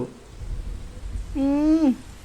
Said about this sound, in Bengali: বৃষ্টি আজ রাত্রে থামবে বলে মনে হচ্ছে না